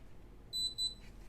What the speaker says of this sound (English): one long beep means your fingerprint is successfully collected